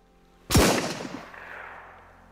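A single gunshot from a small one-shot firearm in the survival video game Sunken Land, heard as a sudden loud crack followed by a rolling tail that fades over about two seconds, with no voices.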